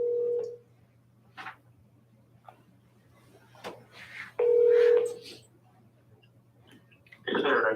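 Telephone tones on a speakerphone at a school board meeting while a dropped call is redialed: several short beeps and a steady tone, spaced apart over a low hum, with brief faint sounds in between.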